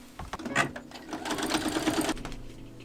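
A sewing machine runs in a steady, close whirring burst while stitching the shoulder seams of a fleece sweater, with a few short starts before the long run and a quieter stop at the end.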